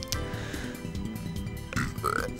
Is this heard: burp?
yes